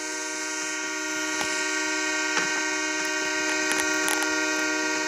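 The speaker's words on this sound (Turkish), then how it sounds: "Ama tren geçiyoruz" A train in PUBG Mobile rumbles past with a steady, sustained horn-like tone and occasional metallic clanks, loud and continuous throughout.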